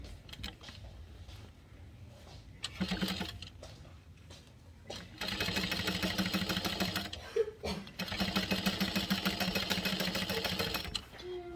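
A sewing machine bastes a lining seam with long stitches, running in short bursts then a sustained whirring stretch with rapid needle chatter, close and fairly quiet.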